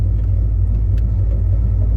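A 1967 Dodge Coronet 500 with freshly repaired rockers and pushrods drives along, giving a loud, steady, deep engine rumble heard from inside the car with no talking.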